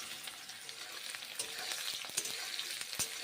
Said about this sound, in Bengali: পেঁয়াজগুলো ভেজে নেব।